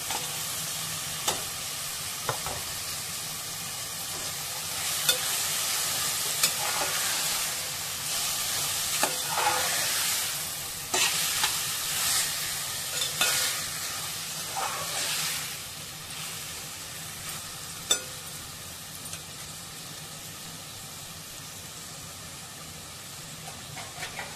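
Moderate sizzling from a pan of frying vegetables with tomato and carrot, repeated scraping and stirring knocks, steady frying hiss throughout and no voices.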